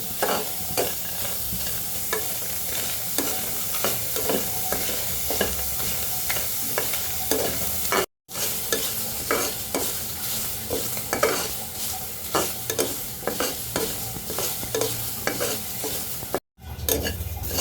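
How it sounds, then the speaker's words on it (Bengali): Onion and garlic dry-roast in a pan with no oil, stirred continuously with a spatula: a steady, dry rustling scrape and soft crackle runs throughout, broken by two brief silent gaps, with no voices. "তেল ছাড়া ভেজে নিচ্ছি পেঁয়াজ আর রসুন"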